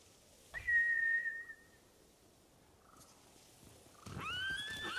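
In the video game Ghost of Tsushima, a samurai horse whinnies shrilly, then falls quiet before a second high neigh rises near the end, clear against a calm background.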